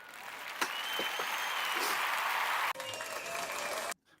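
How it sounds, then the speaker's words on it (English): An audience at a sterile processing talk breaks into a round of applause, dense steady clapping that drops abruptly near the end and cuts off to near silence. "Big round of applause"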